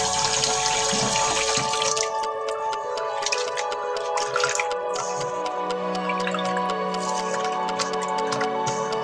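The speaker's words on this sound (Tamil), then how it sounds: "நாங்கள் வெட்டி வச்சிருக்கிற 200 கிராம் கோவாவையும் நல்லா கழுவி எடுப்போம்." Tap water runs steadily over 200 grams of chopped cabbage being washed in a home kitchen, a continuous close splashing and dripping with no talk.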